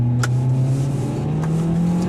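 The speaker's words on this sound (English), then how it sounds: "A little bit of turbo lag, that's why I was revving it hard" A 2015 Nissan Juke AWD's turbocharged engine drones loudly and climbs in pitch as it accelerates hard, close by, with no voices.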